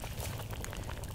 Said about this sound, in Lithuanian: plovas verda